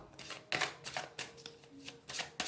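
Chakra oracle cards being shuffled and drawn, giving several crisp riffling bursts with short pauses between them, close and fairly quiet, with no voices.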